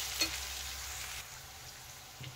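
Boiled banana flower added to frying potato and onion in a pan, a soft sizzle with a brief clatter and stir near the start, fairly faint and close.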